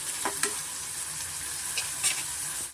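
Vegetables fry in a pan over a medium flame with turmeric and asafoetida, giving a continuous bright sizzle and a few scraping stirs close by.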